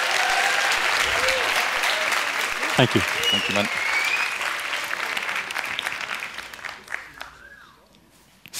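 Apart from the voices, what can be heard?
audience applause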